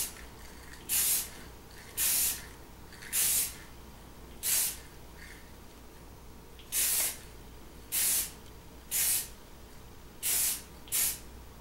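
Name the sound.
spray can spraying primer on a Corgi Porsche Carrera 6 model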